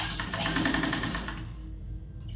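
A sewing machine stitching a blouse, a fast close mechanical whirr of rapid needle strokes that runs steadily for over a second then stops, leaving quiet room tone.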